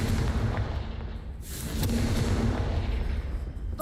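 A Confringo fire spell in Hogwarts Legacy bursts with a loud whooshing blast, set against a dense, rumbling wash of low booms and crackle that stays heavy and continuous.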